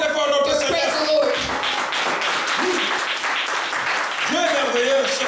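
A church congregation applauds and acclaims the Lord, steady dense clapping mixed with cheering voices and a preacher's raised voice calling out over the crowd.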